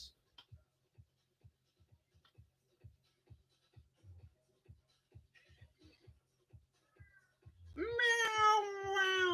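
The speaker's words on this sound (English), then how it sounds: "Meow, meow, goes the cat." A house cat gives a sudden loud drawn-out meow near the end, after a run of faint soft ticking and shuffling noises in a quiet indoor room.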